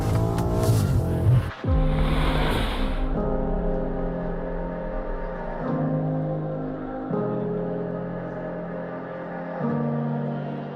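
A BMW M8's 4.4-liter V8 engine revs hard through a rising howl, with several stepped gear changes and a burbling exhaust note, close and loud with no speech.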